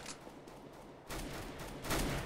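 Sustained gunfire in CS:GO, a continuous rattling stream of shots that grows louder and heavier partway through, with no talking.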